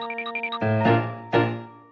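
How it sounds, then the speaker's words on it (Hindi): A bell being rung during a food-layer challenge: a few quick high electronic chime notes, then two struck, ringing tones with sustained overtones that decay slowly, clear and close. "घंटी बजाओ"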